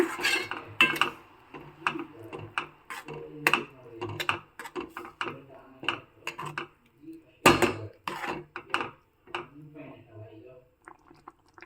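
Gojju being stirred with water in a pan: irregular clinks and scrapes of a utensil against metal, close and fairly loud, coming in uneven bursts with short pauses between.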